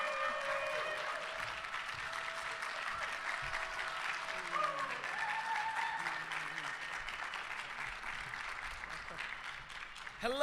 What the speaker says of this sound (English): please, a round of applause for Wilson Cruz,